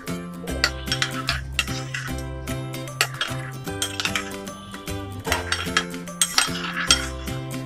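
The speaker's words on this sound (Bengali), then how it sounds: "এখন আমি এখানে 3 টেবিল চামচ যে সাদা ভিনেগার নিয়েছি বা সিরকা সেটা দিয়ে দেবো। প্রথমে অল্প দিয়ে দেব আর এভাবে মিশিয়ে নেব।" A spoon stirs white vinegar into milk in a bowl to make homemade yogurt, giving a busy run of rhythmic metallic clinks and scrapes against the bowl that carry on throughout without speech.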